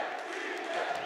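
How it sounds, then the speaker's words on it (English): A crowd on the main stage of a Rocket League esports event at Gamers8 cheers, a low, continuous roar of voices sustained throughout at moderate distance. "Just got to listen to the crowd, man."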